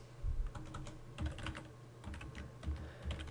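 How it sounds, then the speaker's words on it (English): Computer keyboard typing a command, a quick series of close, light key clicks in uneven bursts over a faint background hum, with no voices. "we can go ahead and come over here to our do file and type in replace"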